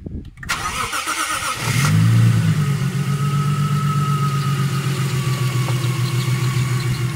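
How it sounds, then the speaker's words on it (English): A Lexus IS200 running on its factory ECU cranks briefly, catches and settles into a steady, loud idle that continues alone to the end. "Right now he has his factory computer wired in, which he will demonstrate now by starting the car for us."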